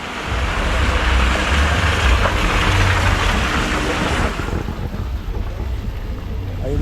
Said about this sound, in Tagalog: malakas nga naman ang ulan